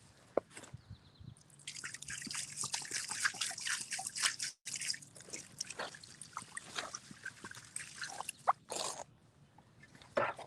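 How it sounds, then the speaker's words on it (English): Rinse water runs and drips off a freshly cleaned headstone outdoors, a close, uneven trickle with scattered splashes and drops that continues for several seconds. "So now we're gonna rinse that off, and I can already tell it's like super clean."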